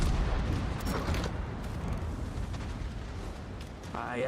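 Naval battle in World of Warships, with heavy ship gunfire and explosions as deep rumbling booms that blend into a continuous loud roar, a sharper burst near the end.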